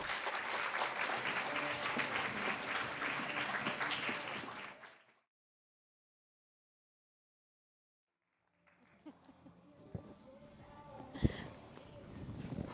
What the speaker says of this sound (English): please join me in welcoming Emily Feng, Ambassador Kelley Currie, Dr. Yangyang Cheng, and Bill Bishop with a round of applause